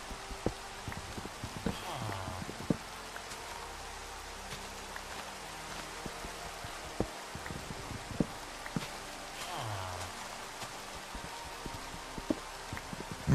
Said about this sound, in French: En plus, avec le son de la pluie, de ouf.